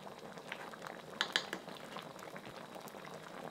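Giant prawns in a ketchup and Sprite sauce boil in a pan, giving a faint, steady bubbling and popping with a few brief louder pops.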